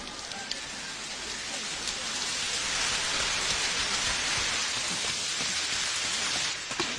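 Steady rain falls throughout as a dense, even hiss of drops on surfaces, moderately loud and unbroken, with a faint swell in the middle.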